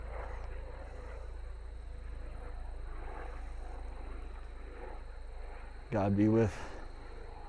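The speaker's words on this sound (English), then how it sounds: "Used to fly in that exact helicopter, medevac." A medevac helicopter flying over a farm and chestnut orchard makes a faint, steady distant drone throughout, and a voice speaks briefly near the end.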